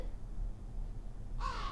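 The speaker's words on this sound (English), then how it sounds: "Then out from a tree, with an ear-splitting shriek, there flapped a green bird with the bow in her beak." A green bird bursts out of a tree with a loud, harsh shriek, a sharp crow-like caw arriving near the end of the story sound effect after a low rumbling bed.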